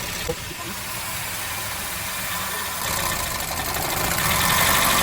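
A car engine idling with a cylinder misfire, a rough, uneven rumble that grows slightly louder and harsher toward the end; no talking.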